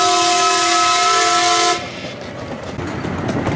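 Zoo train ride with a horn-like whistle blowing loud and steady for nearly two seconds before cutting off, leaving rolling carriage rumble and track noise underneath.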